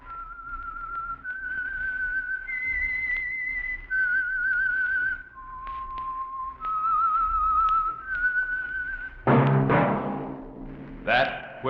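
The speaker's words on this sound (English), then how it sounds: "That whistle is your signal for the Signal Oil Program, The Whistler." A lone whistler carries the eerie theme melody of the old radio mystery show, long sustained notes stepping up and down, followed by a brief orchestral sting at the end.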